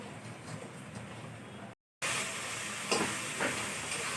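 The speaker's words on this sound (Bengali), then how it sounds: "এখানে মাংসর মশলা কষাচ্ছি, দেখো" Meat spice masala being stirred and fried for mutton gives a continuous hissing sizzle that cuts out briefly, then returns louder with a few soft scraping accents.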